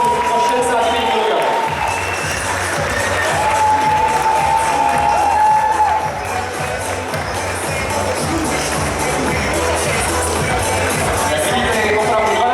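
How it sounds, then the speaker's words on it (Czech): Steady crowd applause and cheering greet youth wrestlers at a Czech championship, older junior category up to 65 kg, a dense continuous roar of clapping with a voice talking over it. "Přivítejme všechny závodníky s potleskem"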